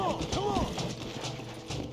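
Horse in Red Dead Redemption, hooves clip-clopping in a steady rhythm with a brief whinny near the start, mixed under a voice talking through the game.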